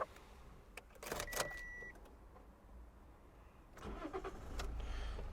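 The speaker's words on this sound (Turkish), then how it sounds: "Şöyle aracı bir çalıştıralım." A few mechanical clicks and a brief electronic tone, then a Toyota Corolla 1.4 D-4D diesel with automated manual gearbox cranks, catches and settles into a steady idle.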